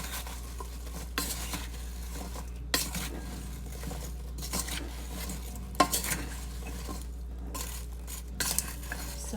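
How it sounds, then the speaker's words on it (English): Sliced apples are tossed with cinnamon in a tall bowl: soft, intermittent scraping and tumbling with occasional sharper clinks of a utensil against the bowl over a low steady hum, and no speech. "So as all the apples mix, I know some of the apples might just break since we've already sliced them"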